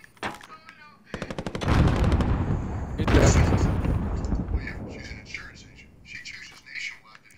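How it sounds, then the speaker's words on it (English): A grenade explodes in a Call of Duty Warzone Plunder match, a loud close boom amid rapid machine-gun bursts, while players talk over the gunfire. "Someone threw a grenade on me."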